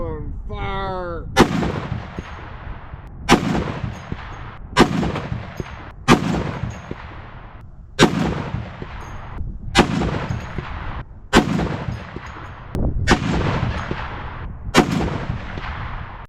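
A .50 caliber rifle fires repeatedly at a concrete target, eight or so booming shots roughly two seconds apart, each with a hard crack and a long echoing decay, after a short whine at the start.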